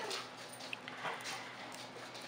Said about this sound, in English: the dog started barking